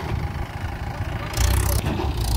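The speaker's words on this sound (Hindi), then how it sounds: "रवि ट्रैक्टर को यहाँ से हम रवाना करेंगे" A tractor engine runs at a steady low rumble in a Rajasthan field during the moth bean harvest, growing louder partway through as if revving up.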